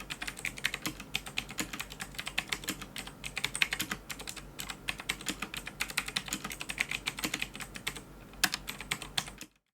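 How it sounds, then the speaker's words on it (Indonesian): Rapid, steady typing on a Daxa M71 Pro mechanical keyboard fitted with Gateron Blue switches, crisp clicky keystrokes in quick irregular bursts, close and isolated, stopping abruptly at the end. "Berikut suara yang dihasilkan Gateron Blue Switch."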